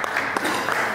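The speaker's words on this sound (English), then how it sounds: "Dr. Skosana, let's give him a big round of applause as well." Audience applause at a boxing promotion press conference, a dense steady wash of clapping filling a brief moment.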